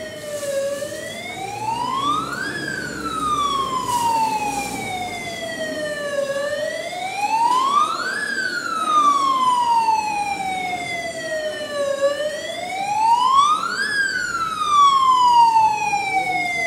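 A fire engine siren wails in slow rising and falling sweeps, loud and nearby, over a low engine rumble, repeating about three times.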